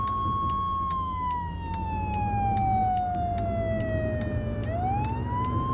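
In the video game Flashing Lights, an emergency vehicle siren wails loud and close, its long tone sliding slowly downward and then sweeping back up, with engine noise rumbling underneath.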